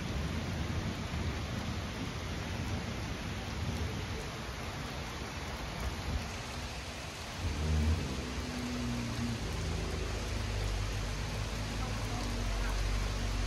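Heavy rain falls steadily during a severe thunderstorm, a dense, loud, continuous hiss of downpour with low rumbling underneath that deepens toward the end.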